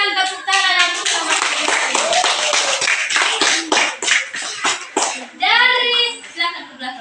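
Primary school children in a classroom clap their hands in rhythmic bursts, close and lively, mixed with their chanting voices.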